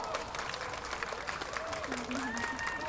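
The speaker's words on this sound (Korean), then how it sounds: "여러분 예빈나다 씨에게 다시 한번 박수 보내주실까요?" Crowd clapping at an outdoor beer festival street stage, heard faintly and at a distance, with a voice and some tonal sounds running over the scattered applause.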